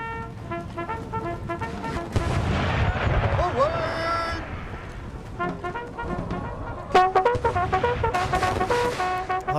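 Musket gunfire and artillery booms from a large battle in the strategy video game Empire: Total War, Gatling guns firing on barricades and log walls, dense continuous rumbling blasts with sharper cracks later on, under a person talking.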